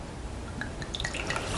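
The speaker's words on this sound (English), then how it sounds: "this is our Baldwin Strawberry Dessert Wine. So I'm going to pour a little bit out here." Baldwin strawberry dessert wine pours into a glass at a vineyard tasting, a brief, soft, close liquid trickle with light dripping and gurgling notes.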